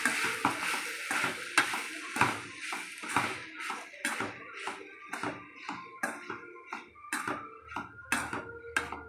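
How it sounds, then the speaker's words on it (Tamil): Brinjal is sautéed on a low flame, with a soft sizzle beneath a run of spatula taps and scrapes against the pan that come in an uneven rhythm, close and moderately quiet. "அப்படியே லேசாக சிம்மில் வச்சு அப்படியே லைட்டாக அப்படியே வதக்கிருப்பாங்க"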